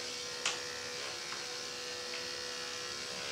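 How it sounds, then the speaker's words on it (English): An electric grooming trimmer buzzes steadily at close range while clipping the hair on a Labradoodle's paw pads, with a few faint ticks as it touches the fur. "you can go ahead and get inside a little bit with your trimmer just to clean up the extra hair"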